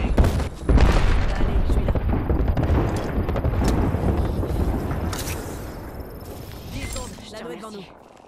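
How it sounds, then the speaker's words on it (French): Arc star grenade thrown and detonating in Apex Legends, a loud burst followed by crackling electrical blasts and scattered gunfire, with game voice callouts running over the action. "Étoile à arc lancée."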